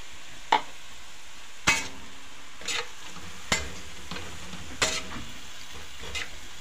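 Carrots stirred into a hot pan of pancit bihon and canton, with a utensil scraping and clanking against the pan every second or so over a steady low sizzle.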